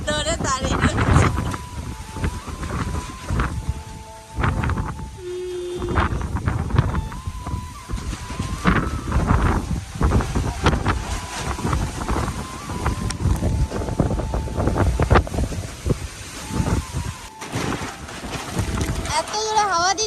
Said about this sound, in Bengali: এত জোরে হাওয়া দিচ্ছে